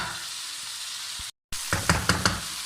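Roughly chopped onions frying in a pan for an aloo mattar curry, a faint steady sizzle that drops out briefly, then returns with a quick run of stirring clacks and scrapes.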